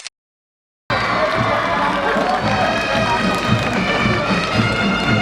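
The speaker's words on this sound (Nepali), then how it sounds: "कर्णाली प्रदेशका खेलाडीहरूलाई जोरदार तालीले" A dense stadium crowd roars and claps for Karnali Province athletes at the 9th National Games opening ceremony in Pokhara Rangashala, a loud, steady wash of noise that starts abruptly after a second of silence.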